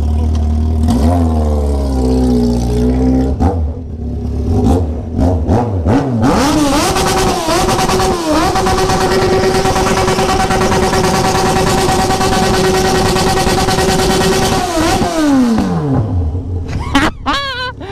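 A car engine revving hard through a fusion exhaust pipe, its pitch climbing and falling in repeated loud bursts, then holding a high sustained roar before dropping back, close and dominant.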